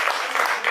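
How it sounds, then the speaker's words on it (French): A live audience claps for a DJ at a cultural event, a short burst of dense, steady applause at fairly close range with no voices over it. "Est-ce qu'il y a moyen quand même d'applaudir très fort pour lui quand même"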